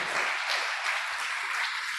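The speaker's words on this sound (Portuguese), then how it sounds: "Pode dar uma salva de palmas para o Senhor." Church congregation in a Portuguese-language service gives a round of applause to the Lord, a steady, fairly soft wash of many hands clapping with no speech over it.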